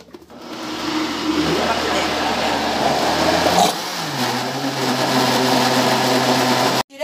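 A blender runs with a loud, steady motorized whir as it mixes cassava cake batter with eggs and butter. Its pitch drops partway through before it cuts off near the end.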